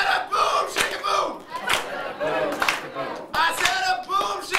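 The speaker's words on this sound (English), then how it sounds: "Heavy clapping. Everyone." A coffeehouse audience claps heavily in steady rhythmic bursts, loud and close, with shouted chanting voices mixed in among the claps.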